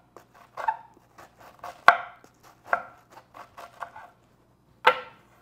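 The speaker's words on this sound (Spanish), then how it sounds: "Así de esta forma estaremos picando lo más fino que usted pueda el curtido" A knife chops cabbage finely on a cutting board for curtido, giving sharp, uneven knocks in an irregular rhythm. The chopping is close and clear, with no voices.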